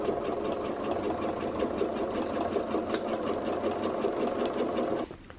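A home sewing machine doing free-motion quilting runs in one steady, fast, close stitching burst for about five seconds, then stops abruptly, leaving quieter room tone.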